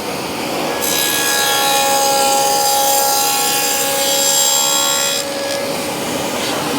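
A table saw cuts a dado into reclaimed timber for a foot stool, a steady loud whining cut with harmonic tones that holds for several seconds, then drops as the blade clears the wood and the saw keeps running.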